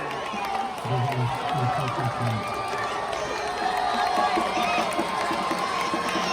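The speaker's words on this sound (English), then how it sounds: "Crowd is going wild" A crowd at a Texas high school area championship football game, Steele against Round Rock, cheering and roaring loudly and continuously, with shouting voices and some talk mixed in.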